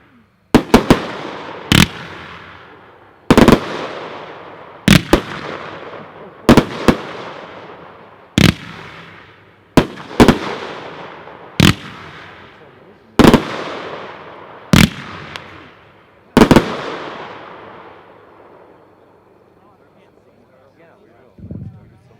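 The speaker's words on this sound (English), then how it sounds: "Number 7 is a red, white, and blue finale box, Dominator Pro, packed 4-1," A Dominator Pro red, white and blue finale box of fireworks fires about a dozen loud, sharp booms at steady intervals of roughly one to two seconds, each decaying into a crackling tail. A voice speaks faintly near the end.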